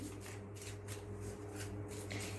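Tarot cards shuffled by hand, a soft continuous riffling and rubbing with a few brighter bursts, close and quiet, with no talking.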